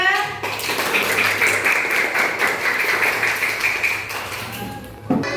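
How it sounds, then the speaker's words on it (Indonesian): Children in a classroom lesson clap together for number 2, a brisk burst of close, overlapping hand claps lasting several seconds, with voices talking around it. "Sudah kembali tepuk tangan untuk nomor 2."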